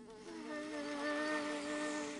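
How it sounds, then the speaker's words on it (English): A bee buzzes steadily in the Adventure Time video game, a continuous droning hum that holds at even loudness for a couple of seconds with no voices over it. "A bee."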